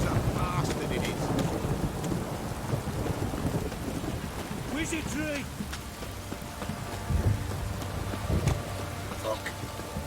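Heavy rain hisses steadily with low rumbling thunder in a stormy scene in The Witcher 3: Wild Hunt, continuous and enveloping while a man briefly exclaims over the downpour.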